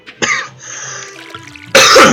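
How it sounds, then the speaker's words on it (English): A person coughs and clears their throat a couple of times in a quiet room, close to the microphone, with a sharp loud burst at the end. "I haven't been coughing at all until I started recording."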